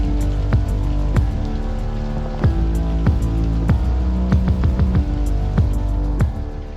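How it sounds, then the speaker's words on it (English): Steady rain falls on a rural homestead, a continuous dense patter with scattered louder drops striking a surface nearby, heard alone without voices. "So needed this rain."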